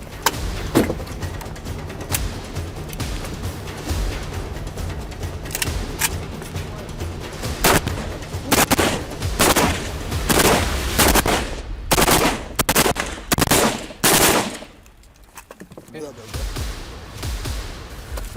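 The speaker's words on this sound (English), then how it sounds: "Right now he's got an AK-47 that he needs to assemble, fire, and then disassemble." An AK-47 rifle is fired in a timed assemble-fire-disassemble drill. Sharp, loud shots crack out one after another, with a dense cluster of rapid reports in the middle followed by a short lull, and voices are heard faintly in the background.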